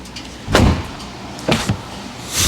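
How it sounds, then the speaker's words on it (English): Door of a 2023 Dodge Challenger Hellcat wide body shuts with a solid thud, followed by two more quick thumps about a second later, close up with no talking. "Listen to this door shut."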